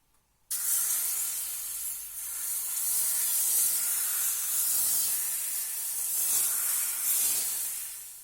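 Pancake batter poured into a hot nonstick frying pan, a sudden loud hiss bursting in after a moment of quiet and sizzling steadily, close and alone.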